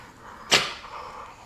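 A single sharp bark rings out from one of two dogs playing outside, brief and moderately distant against a quiet room background.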